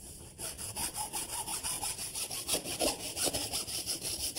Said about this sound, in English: I made up a little wooden miter box quickly. I'm going to cut them with a hacksaw.